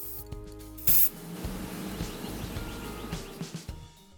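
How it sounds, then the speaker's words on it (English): A spray can lays sealant onto vinyl stickers on newspaper in short hissing bursts, with one brighter, stronger blast early on, all close and fairly quiet. "then sprayed it evenly onto my stickers"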